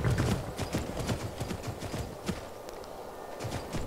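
Horse hooves clip-clop at a steady walking rhythm in Skyrim's Rigmor of Bruma, with a rider on horseback near Blacklight Tower; the footfalls stay fairly close and continuous, with occasional louder strikes and no talking.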